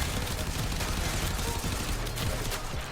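The Acceltra weapon fires in Warframe, a dense rapid stream of shots in quick succession, with steady crackling bursts and a voice talking softly underneath.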